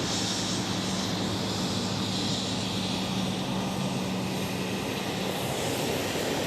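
Qatar cargo aircraft at Schiphol, a steady moderate engine roar with a low droning hum under it, fairly distant and unchanging, with no speech.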